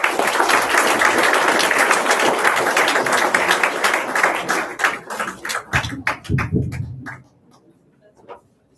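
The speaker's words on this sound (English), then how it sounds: "Ladies and gentlemen, please welcome him with a big round of applause." Dense applause from a live audience at an angel investment and VC funding session greets a speaker, loud and sustained before thinning into scattered claps and fading out.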